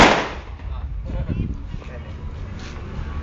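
A sharp bang of a firecracker bursts at the start, followed by lingering rumble and nearby voices talking.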